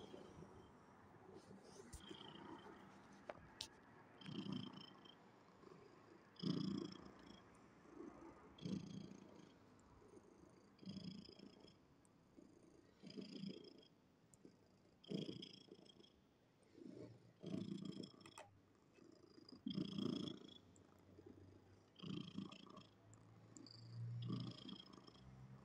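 A cat purrs steadily and close by, its soft rhythmic rumble rising and falling with each breath over about twenty-five seconds, with no voices.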